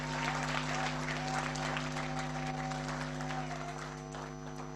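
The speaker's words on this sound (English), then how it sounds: "Applaudissez pour ces jeunes, s'il vous plaît." Sustained audience applause at a company presentation, steady clapping throughout over a constant electrical hum, tapering slightly toward the end.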